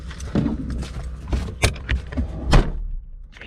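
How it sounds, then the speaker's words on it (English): A car door, on what is apparently a yellow Mazda RX-7 FD, is handled and shut, with sharp thuds and clunks among rustling and rattling movement nearby. "Slam that door harder."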